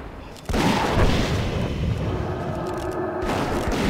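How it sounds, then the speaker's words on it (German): Gunfire from a World of Warcraft: Wrath of the Lich King character shooting, heard as a sudden loud burst of booming shots followed by sustained dense crackling battle noise. "Oh, ich schieße mit."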